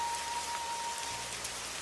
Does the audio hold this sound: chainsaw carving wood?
no